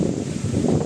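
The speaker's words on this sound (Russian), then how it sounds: "потому что ветер уже насколько сильный" Strong wind blowing steadily on an outdoor walk near home as rain approaches, a continuous low rushing roar with mic buffeting and no gaps.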